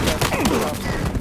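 Rapid gunfire from the 74 rifle in the shooter game Battlefield Hardline during a bank job heist match, a quick burst of shots mixed with a voice talking over it.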